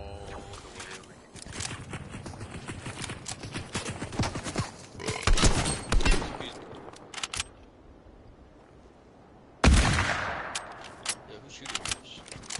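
Rapid bursts of gunfire from a Fortnite match crackle in clustered volleys, loud and close, with a pause before another sharp burst near the end.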